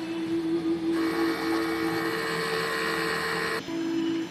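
An inkjet printer running a head cleaning cycle hums steadily with a tonal whine, joined for a few seconds by a louder broadband mechanical whirr that drops away near the end.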